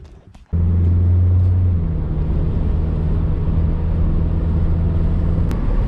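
A Nissan Sentra starts driving after a quiet moment, then a steady, close engine drone and road rumble fill the cabin, holding an even level with no talking.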